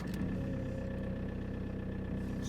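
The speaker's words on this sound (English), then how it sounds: "let's see if this starts now." A Toyota RAV4 D4D diesel engine with bad hot starts catches straight away and settles into a low, steady, rumbling idle, close and continuous.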